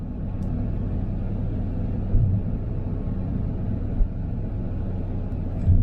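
A car drives through roadworks with a 40 km/h limit during a mock driving test, giving a steady low engine and road rumble with a couple of soft thumps.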